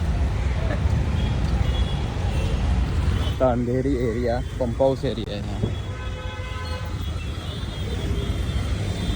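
Busy morning street traffic in the Andheri area of Mumbai, with engines rumbling continuously close by, a horn toot or two, and someone talking over the noise.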